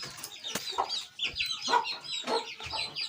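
A hen being set on eggs clucks repeatedly in short, close, moderately quiet bursts with a steady rhythm and no talking.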